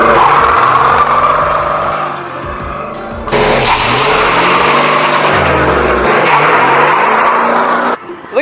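Cummins diesel-swapped Chevrolet C10 pickup power braking into a burnout, loud engine roar with squealing, skidding tires, a dip and surge in revs midway, then a sudden cutoff near the end.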